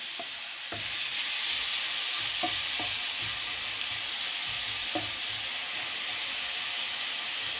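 Steady, close sizzling of onion, carrot and pepper frying in a pan for borscht, with occasional soft clicks of stirring over a constant hiss.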